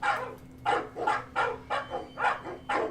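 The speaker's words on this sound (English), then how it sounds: "let me turn on the dogs a little bit more" A pack of dogs barking in a steady run of about seven sharp woofs at an even pace, set over a low constant electrical hum, with no talking.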